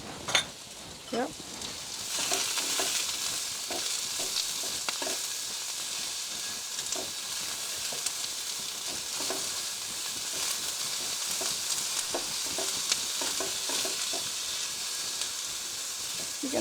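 Sliced medium onions fry in oil for Hakka chicken noodles, a continuous low sizzle with repeated spatula taps and scrapes against the pan spread throughout.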